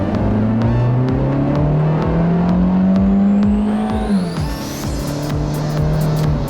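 A 2005 Honda Civic's engine and exhaust hum steadily from inside while driving, the pitch rising smoothly under acceleration, then dropping briefly as the car shifts gear before settling into a steady drone.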